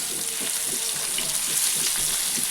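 Lolli fish pieces fry in hot oil spread across a tawa, producing a loud, continuous crackling sizzle with bursts of spattering, close up and with no speech.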